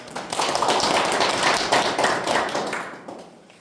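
Dense, loud applause and clapping from a crowd at a union officer election rally in Jeonbuk, sustained for several seconds before tapering off near the end.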